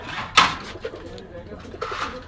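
Pigeons at a pigeon shop in Gollamari, Khulna, give a soft, short coo after a sharp clatter, close by and brief.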